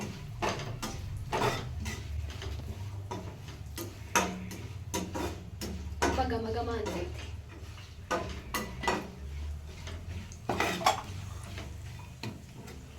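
Semolina roasting in ghee in a pan until browned, stirred with a utensil that makes irregular scraping and clinking taps against the metal over a low background hum, close and with no talking.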